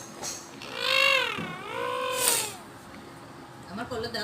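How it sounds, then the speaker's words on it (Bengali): A pet cat gives a couple of clear, drawn-out meows close by, rising and falling in pitch, with some faint background noise. "বিড়ালটা খুবই লক্ষ্মী বিড়াল"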